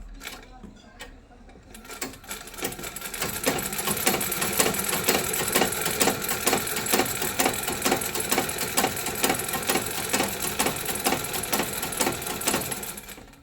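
A sewing machine runs a long continuous seam attaching a fall to a saree, a fast, even mechanical whirr and needle clatter close up, starting after a brief pause and holding steady to the end.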